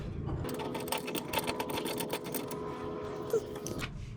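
Mechanical work on the inner tie rod of a 2000 Subaru Forester steering rack, with a steady run of rapid rattling clicks, close and fairly loud, and a short metallic clank near the end.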